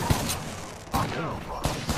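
Gunfire in the video game Apex Legends, with repeated sharp bursts of shots in quick succession over busy game noise, loud and close, while a voice talks underneath.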